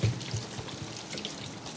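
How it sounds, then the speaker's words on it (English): Pork belly being rinsed under running water, a steady close splash and trickle going on throughout with no talking. "You're just rinsing off any excess debris or blood"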